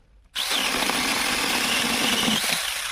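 A small AliExpress mini chainsaw with an oiled chain starts abruptly and cuts into wood about 5 cm thick, a loud, steady high-pitched whine lasting a few seconds and easing at the end, with no talk.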